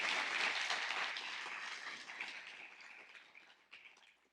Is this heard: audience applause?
yes